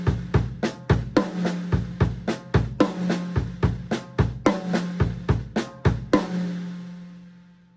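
Drum kit playing a linear half-bar triplet phrase of alternating right and left hand strokes with kick drum hits, a steady rapid run of punchy, close strokes ending in a ringing cymbal-like decay.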